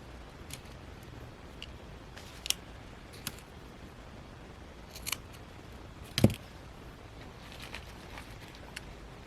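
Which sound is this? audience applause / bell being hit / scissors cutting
scissors cutting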